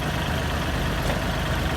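An Isuzu 175 six-wheel dump truck hauling earth in the rainy season runs its engine. A loud, dense, low rumble fills the whole moment, steady and close.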